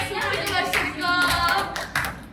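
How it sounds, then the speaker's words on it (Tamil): A group of people clap hands together for a few seconds in a classroom, brisk overlapping claps with a faint voice mixed in. "எல்லாரும் கைத்தட்டல் கொடுங்க."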